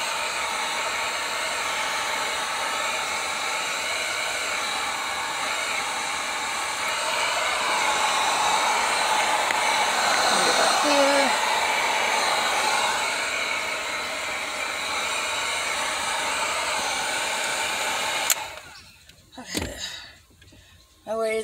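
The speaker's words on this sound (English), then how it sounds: "Always make sure you put your heat gun somewhere where it's not going to catch anything on fire or melt anything" Heat gun warming a steering wheel cover during installation in a Pontiac G6 GT coupe, a steady loud blowing roar with hiss lasting most of the clip, then cutting off abruptly near the end.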